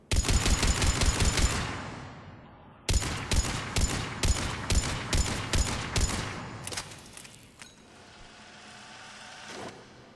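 Mattock rifle fire in Mass Effect 3, a loud rapid string of semi-automatic shots in bursts with a short pause, then a few more spaced shots trailing off into faint echoing reports.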